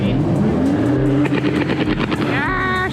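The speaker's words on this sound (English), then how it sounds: "It backfires nicely when he dumps it in first." A car engine revs hard at a night street meet, its pitch climbing in surges with sharp popping backfires as first gear is engaged, loud and close, while people talk over it.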